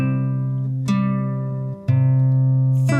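Fingerstyle acoustic guitar picking on the outside strings: three plucked notes, about a second apart, each ringing out clearly and sustaining alone in a quiet room.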